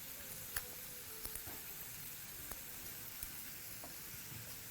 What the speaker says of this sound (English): making sure that your onions are of course gently sizzling away